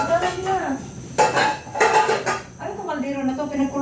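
Cooking pot and dishes handled in a home kitchen, clanking and scraping metal and crockery in short bursts, close, under intermittent talk.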